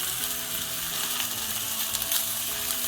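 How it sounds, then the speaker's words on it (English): Strips of bacon sizzle in a pan for a Jamaican-style breakfast, a steady, loud, close frying crackle that runs unbroken with no voices. "So I'm gonna place my cut the bacon, just put it right in there."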